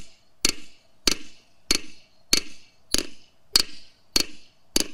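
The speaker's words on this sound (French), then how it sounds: "Voilà le secret du battage de la faux." A hammer strikes a scythe blade on a small peening anvil in the Pyrenees, eight sharp metallic taps at a steady, even rhythm, each ringing briefly, close and clear with no talking.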